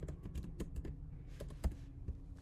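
Code is typed on a computer keyboard in quick, uneven bursts of soft key taps, close and quiet, with no talking.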